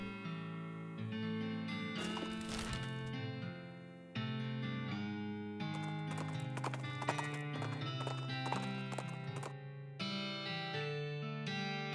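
Hooves clip-clop under a distorted, chorus-heavy tune in the video game West of Loathing, bright layered tones swelling and breaking off in sections while the horse's rhythmic steps run loud and steady throughout, with no talking.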